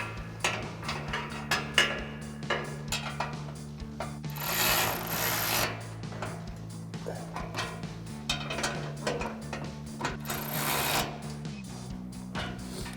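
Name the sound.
ratchet tightening bull bar mounting hardware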